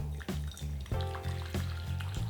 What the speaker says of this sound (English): you're going to tip the water into the bowl.